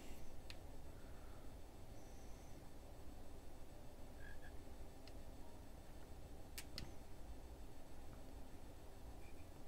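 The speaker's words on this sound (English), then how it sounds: "Frogs, I see six of them." Frogs croak faintly in King's Quest over a steady ambient hiss, with a few sparse clicks and chirps scattered through the quiet scene.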